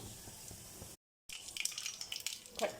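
Mustard seeds and cumin splutter in hot oil in a kadai, giving a steady sizzle with quick popping crackles that sharpen after a brief silent gap.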